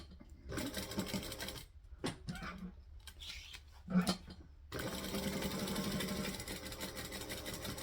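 A sewing machine stitches a brown and gold bag in bursts: short runs of stitching, then a steady continuous run in the second half, close and fairly loud with no talking.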